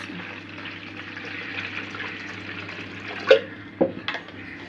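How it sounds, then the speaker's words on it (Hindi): Water poured into besan batter for kadhi in a home kitchen, a soft steady trickle with a couple of sharper splashes and sloshes near the end, close by. "अब इसमें हम पानी ऐड करेंगे।"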